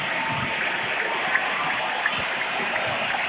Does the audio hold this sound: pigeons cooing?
no